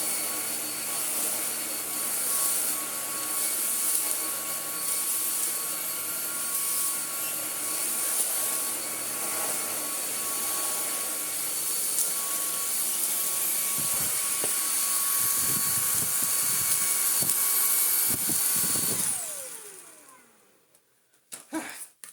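A Kalado KCV01 cordless vacuum cleaner runs with a steady, loud high-pitched motor whine and airflow for about nineteen seconds, then spins down to silence, followed by a few faint handling knocks.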